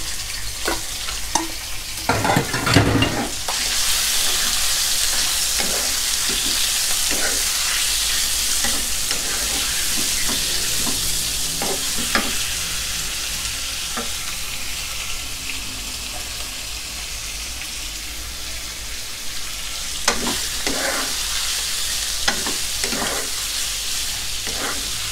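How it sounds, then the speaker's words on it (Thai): Pork belly and garlic stir-fry in a pan over gentle heat for a Sichuan-style mala dish. A steady hiss runs throughout, broken by scrapes and clatter of stirring, with brief faint speech. "กระเทียมเริ่มเหลืองครับใส่หมู3ชั้นของเราลงไปได้เลยไฟไม่ต้องแรงนะครับเพื่อน"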